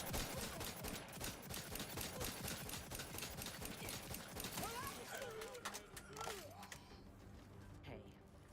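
Rapid bursts of gunfire from an RPG video game, dense and continuous for several seconds before thinning out, with a voice briefly speaking near the end.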